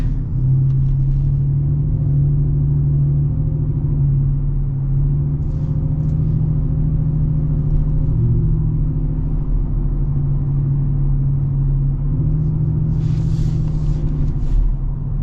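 Steady low exhaust drone and road rumble inside a lowered 2025 Ford F-150 Black Widow pickup while cruising, with tire noise mixed in; the hum stays loud and even throughout, with faint higher hiss briefly near the end and no talking.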